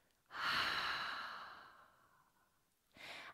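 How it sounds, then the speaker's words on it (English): A single deep, audible exhale during a yoga session with children, a long breathy rush that fades out gradually, followed by a short start of another breath; close and clear with no talking. "Take a deep breath out."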